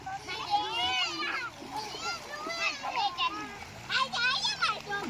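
Children shout and chatter excitedly while splashing in river water, lively and close, the voices mostly on top of the splashing.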